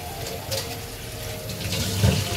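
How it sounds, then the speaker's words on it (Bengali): Rice is rinsed under a running kitchen tap, a steady close stream of water with faint splashing and grain swishing. "আর এদিকে কিন্তু আমি চালটা এখন ধুয়ে নিচ্ছি"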